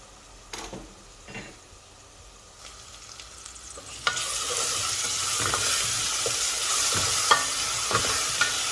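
Onions hit hot oil with garlic for fish bhuna, starting from quiet stirring clicks before a sudden loud sizzle swells and holds steady, broken by scraping stir strokes, with no talk.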